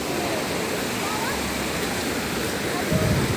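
A mountain river in Uttarakhand rushes steadily close by, a continuous broadband roar of fast water that fills the whole clip, with a slight surge near the end.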